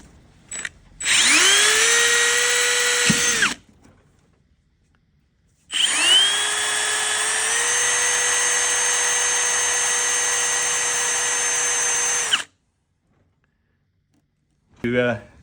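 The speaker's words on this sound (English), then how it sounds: "So we'll use a 5mm drill bit," A power drill with a 5mm bit whines up in two bursts drilling holes in a coffee vending machine, a short one and then a longer sustained run, with brief quiet gaps between.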